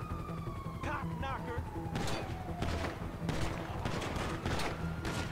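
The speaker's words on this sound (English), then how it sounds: "I don't know why they're trying to shoot from there, but... They are." Enemy gunfire in a video game, bursts of shots crackling at intervals over a wailing police siren, with a voice talking over part of it.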